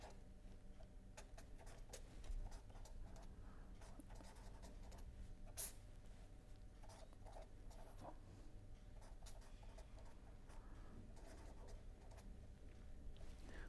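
Pen scratching and ticking steadily across a writing surface during a polymer chemistry lecture, faint and continuous with no talking over it.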